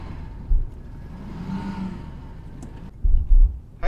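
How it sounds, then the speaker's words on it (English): A Reliant car's engine catches and runs again with a low, uneven rumble and a few heavier thumps near the end, heard from inside the car. "And once again we have the engine back."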